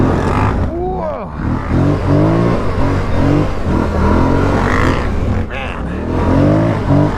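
Can-Am Renegade and Scrambler 1000 ATVs on a trail ride rev loudly up close, their engine pitch rising and falling in repeated throttle sweeps, while someone talks over the roaring motors.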